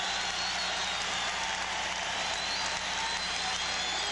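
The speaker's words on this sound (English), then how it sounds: "Listen to the crowd in Philadelphia." At a Stanley Cup Final game between the Islanders and Flyers in Philadelphia, a dense arena crowd roars in a continuous wash of cheering and shouting, loud and unbroken throughout.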